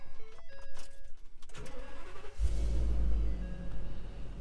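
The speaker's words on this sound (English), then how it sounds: "Man, listen to that V10." A 2015 Ford F550 truck's V10 engine starts up partway through and settles into a loud, steady low rumble close by, following some earlier clatter and handling noises.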